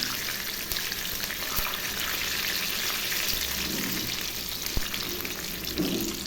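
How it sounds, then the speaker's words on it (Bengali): Eggplant slices fry in hot oil in a pan with a continuous crackling sizzle and a few soft clicks and scrapes of handling. No one speaks. "বেগুন ভাজা হয়ে গেছে, এবার আমি নামিয়ে নিচ্ছি"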